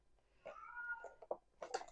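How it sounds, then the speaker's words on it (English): A cat meows a few times close by, short drawn-out cries with brief pauses between them, in an otherwise quiet room. "Can you hear my cat? She's meowing."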